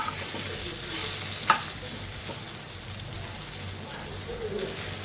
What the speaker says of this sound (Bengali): বেগুনের আচার বানাবো তার জন্য বেগুনটা একটু ভেজে নিচ্ছি